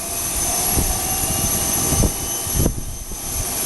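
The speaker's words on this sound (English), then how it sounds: "I wonder if it just started its second engine." A jet engine spools up on an airliner at Aurora Municipal Airport, a loud, steady roar and whine heard from nearby, with a few low thumps rising through the noise and no talking.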